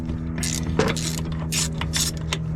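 Ratchet wrench with a 12 mm swivel extension turning a bolt on a 2000 Lexus RX 300 during brake booster removal, a quick close series of sharp clicking ratchet strokes in bursts.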